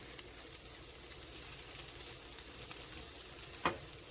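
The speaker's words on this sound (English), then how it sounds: "anytime you're cooking frozen potatoes like this" Frozen hashbrown potatoes fry in bacon grease over medium heat, giving a steady, even sizzle and crackle throughout, with one brief sharper pop near the end.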